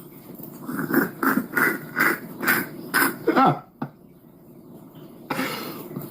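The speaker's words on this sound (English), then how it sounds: "let me clear my throat" A person clears their throat in a series of short, rasping bursts at an even rhythm, close and fairly loud, then a pause and one final rough burst.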